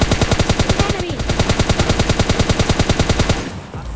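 Rapid automatic gunfire in the mobile shooter PUBG Lite, a loud, evenly spaced burst of about thirty shots over three and a half seconds, ending abruptly in a quieter wash of ambient game noise.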